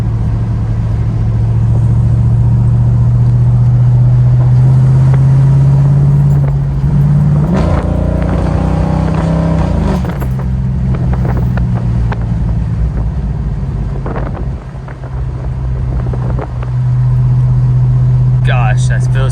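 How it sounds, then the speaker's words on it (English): A Ford Foxbody Mustang with newly fixed power steering drives along, its engine a steady low drone under wind rush, with a brief rise in revs midway and a short dip in level later. "I hope you enjoy a couple clips of the car driving."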